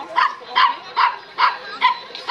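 A small dog at an outdoor agility competition barks in a steady, rapid series of sharp, high yaps, six or so evenly spaced, close and loud.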